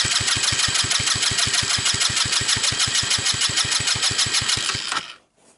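A 150cc X-treme ATV engine cranks over steadily on the starter during a wet compression test, with an even, rapid chug of about six compression strokes per second for five seconds before it stops abruptly.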